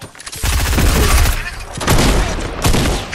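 Fortnite gunfire crackles in dense, rapid bursts across a few seconds, loud and close, with a player's voice talking over the shots.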